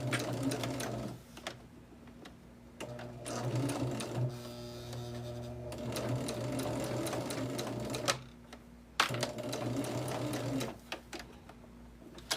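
A sewing machine runs in steady whirring bursts with brief pauses between them, sewing a back stitch at the end of a quilt block, close and clear with no talk.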